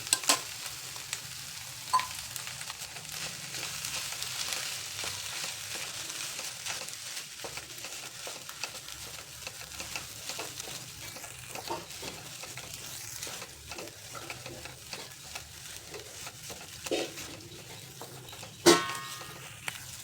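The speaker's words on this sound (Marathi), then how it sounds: "कढई ठेवली तापण्यासाठी त्यामध्ये आता आपल्याला पुरण परतून घ्यायचं" Sweet chana dal and jaggery puran filling is sautéed in a kadhai over a medium flame, giving a long, steady frying hiss with scattered stirring scrapes and small clicks throughout.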